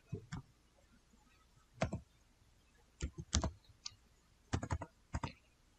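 Short bursts of keystrokes on a computer keyboard typing a command, sharp close clicks in small clusters separated by quiet pauses.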